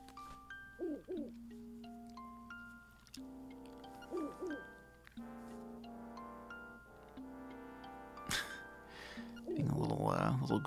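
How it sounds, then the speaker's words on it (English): An owl hoots in The Legend of Zelda: Link's Awakening, short repeated chiptune-style warbling calls over synthesized game music tones, with brief voices near the end. "Oh, the owl's going to talk to us again."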